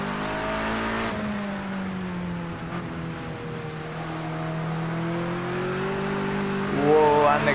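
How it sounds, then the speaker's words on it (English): A touring car in Project Cars 2 spins its wheels on the curb at the wet Bull Ring circuit, a steady droning engine note sliding slowly in pitch before a sharper rising rev at the end, with someone talking over it. "Again, a lot of wheel spin on the curb."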